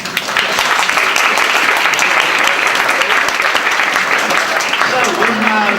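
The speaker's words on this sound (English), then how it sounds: "So let's give them applause." Loud, steady applause from an audience at a startup pitch night, continuous clapping throughout with some voices mixed in near the end.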